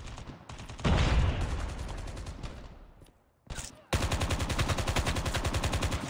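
M4 rifle firing in Call of Duty Mobile, loud rapid automatic bursts with a short pause and then a steady sustained volley of evenly spaced shots.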